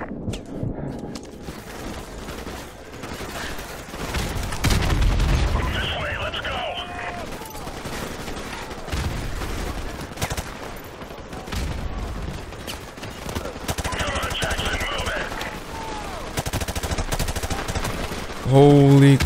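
Repeated bursts of automatic gunfire and shots in Call of Duty Modern Warfare Remastered, loud rattling volleys over a busy battle soundscape with voices talking at times.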